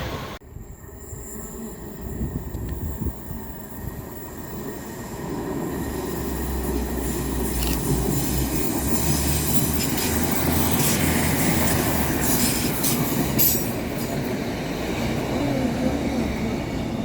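Scotrail Class 156 units 156507 and 156504 pass through Pollokshields East station on a Glasgow Central to Kilmarnock service, a loud rising rumble of wheels on rails with clattering and squealing that builds and stays close, with no talk.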